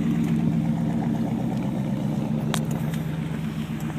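A 1948 Buick fitted with a 350 LT1 Corvette engine and 700R4 transmission cruises down a Michigan street, its steady low engine drone continuous and close throughout, with a brief faint tick partway through.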